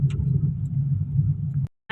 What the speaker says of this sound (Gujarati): ઓલી ગાડી આવે ને અર્ટિગા, એમાં આપણે બેસવાનું છે